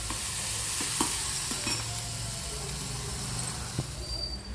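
Onions sauté in a pan for an agathi keerai sambar, with a steady close sizzle and scattered scraping stirs all the way through.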